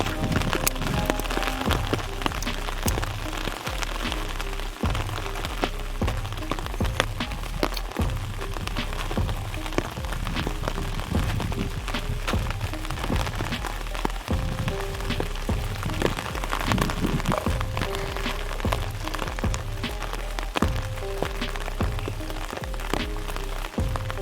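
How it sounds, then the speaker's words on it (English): Steady rain falls all day on Halloween, a dense continuous patter of drops on surfaces with scattered sharper ticks, close and even throughout with no voices. "It rained all day on Halloween Day."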